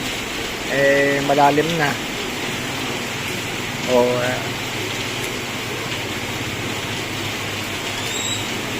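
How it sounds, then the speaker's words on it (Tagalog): Heavy rain pours in a steady, dense broadband hiss throughout, with a person speaking briefly over it near the start. "Grabe ang ulan na ito,"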